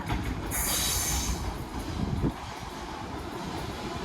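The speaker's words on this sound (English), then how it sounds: "Here comes a passing freight train from Birch Coppice to London Gateway." A freight train from Birch Coppice to London Gateway passes close by on the Walsall line, a loud continuous rumble of wagons with a bright high wheel squeal early on that fades to a steady roll.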